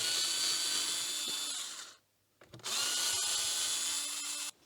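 A cordless power drill whirs in two bursts, backing self-tapping screws out of a trailer board lamp cover, with a short pause and clicks between runs.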